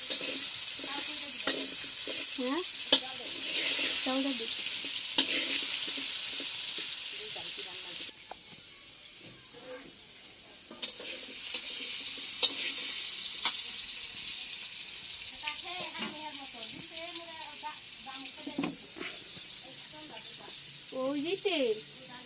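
Potato pieces fry with salt, turmeric and chili, making a continuous sizzle broken by rhythmic stirring scrapes and spatula taps. Voices are heard faintly in the background toward the end.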